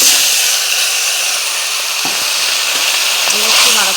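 Morola fish sliding into hot oil seasoned with cumin and bay leaf, giving a steady close, bright sizzle with faint stirring clinks throughout.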